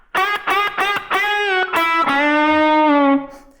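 An electric guitar plays a riff with chicken picking and reverb, giving a series of short, sharply plucked distorted notes followed by a longer bent, sustained note that rings out and fades.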